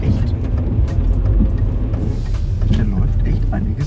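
Porsche 996 flat-six engine treated with Liqui Moly ceramic oil additive idles steadily and smoothly, a continuous low rumble close by with no talk.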